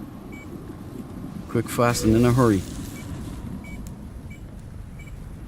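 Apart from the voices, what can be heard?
beeping sound in No Man's Sky video game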